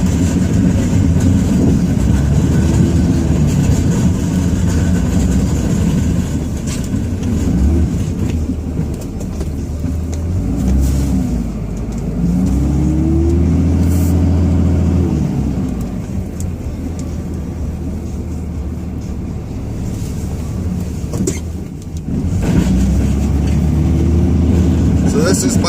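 A 2005 Dodge Ram 2500 diesel pickup truck engine runs loudly and continuously with a deep rumbling idle, its pitch swelling and easing as revs rise and fall, during a snowstorm lot-plowing job.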